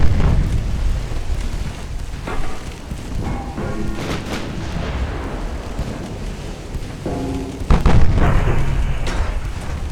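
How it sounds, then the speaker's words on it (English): 8-inch naval gun on a warship firing in the Ultimate Admiral Dreadnoughts battle game, heard as deep, rumbling booms over a continuous roar of naval combat, loud and close, with a heavier blast near the end. "Our 8-incher still firing."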